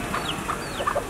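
A baby chick cheeping beside a chicken outdoors, several short high peeps and soft clucks in quick uneven succession, close and clear with no talk.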